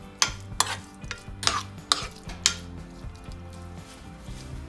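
Boiled cucumber mixture for vellarikka kichadi is stirred in a pan, a spoon giving several sharp scraping knocks against the metal over a low, rhythmic squelching churn, close and clear.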